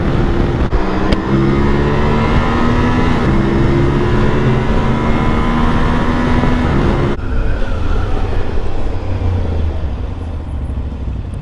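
Inside a tunnel, an Aprilia Tuareg 660 motorcycle engine screams at high revs, its echoing roar climbing and stuttering against the rev limiter before backing off into a rough, booming rumble.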